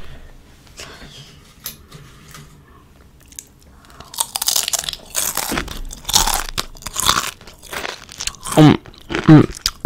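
Doritos tortilla chips being bitten and chewed close to the mic, with loud irregular crunches clustering over the second half after quieter shuffling at the start.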